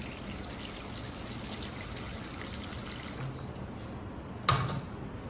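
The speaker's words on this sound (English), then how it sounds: "I'm trying not to put in too much water" Water pours steadily into a pot of potatoes on a kitchen stove, a continuous close trickling stream that runs unbroken and ends with a brief louder splash near the finish.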